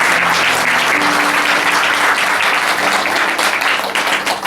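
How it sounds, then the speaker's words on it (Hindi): A church congregation claps for God during a Hindi sermon, giving loud, sustained applause from many hands that fills the whole stretch and eases off slightly at the end. "ताली बजाएं परमेश्वर से।"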